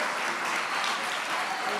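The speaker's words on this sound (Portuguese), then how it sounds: "pode aplaudir glorificando Jesus aí no seu lugar" A church congregation claps in praise during a worship service, a brief, even spread of applause filling the room at moderate volume.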